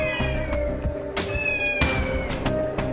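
Several pet cats meow and caterwaul in repeated, drawn-out cries close by, overlapping one another in a busy room.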